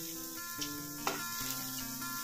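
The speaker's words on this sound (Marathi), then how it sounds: "ते आता पॅनवरती ट्रान्सफर करून घ्यायचे आहेत आणि अगदी गोल्डन कलर येईपर्यंत आपल्याला कांदे छान" Sliced onions sizzle in a hot pan on a gas stove as they brown for a spicy chicken curry. A soft, steady hiss runs throughout, broken by a few faint clinks of a spoon on the pan.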